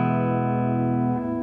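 An electric guitar runs through a Shark Bangkok effect pedal on channel A clean boost, holding one loud, sustained chord that rings out evenly.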